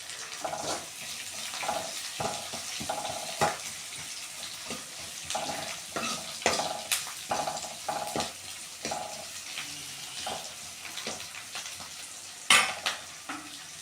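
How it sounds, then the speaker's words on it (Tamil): Onions fry in a pan until golden, a soft continuous sizzle broken by intermittent stirring scrapes and clicks, close and quiet, with no voices. "பாருங்கள், இந்த வெங்காயம் நல்லா வதங்கட்டும், ஒரு பொன்னிறமான கலருக்கு மாறணும்."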